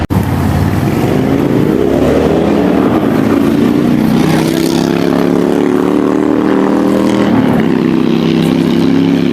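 A fishing boat engine at Gulf State Park in Alabama revs up loudly and steadily, its rising drone climbing in pitch and holding close and strong throughout with no talk over it.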